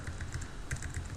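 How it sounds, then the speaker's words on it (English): Computer keyboard keys pressed repeatedly to zoom an OpenStreetMap view, a run of quick, evenly spaced close clicks with no talking. "I could just use the keyboard here,"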